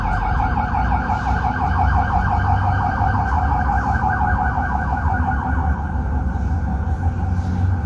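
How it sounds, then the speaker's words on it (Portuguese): A siren passes outside, a steady loud wail with repeating rising and falling cycles that holds for the whole stretch, with no talking over it. "Passar a sirene."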